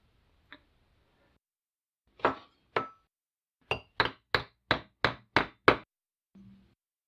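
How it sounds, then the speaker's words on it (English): Hammer whacks on steel on an anvil while shaping a Jeep bumper: a couple of isolated strikes, then a rapid run of six sharp ringing blows, close and clear with quiet gaps. "Couple more whacks on the hammer on the anvil, and that'll be ready to go."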